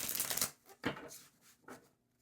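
Tarot cards shuffled and drawn in quick bursts: a dense riffling flurry up front, then two sharp separate card snaps, close and fairly quiet with no talking.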